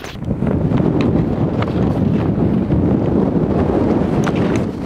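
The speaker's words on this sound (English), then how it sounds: "that wind's really kicking up" Strong wind buffeting the microphone on the open Bonneville Salt Flats, a loud continuous roar and rumble with no break.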